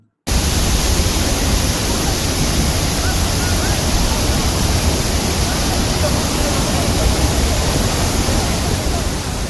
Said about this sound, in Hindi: देखो भाई एइटा होइछि सीताकुंड वाटरफॉल।